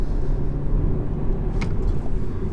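Steady low engine drone and road rumble from a BMW 320 being driven hard through the upper rev range, a continuous loud interior hum with no speech.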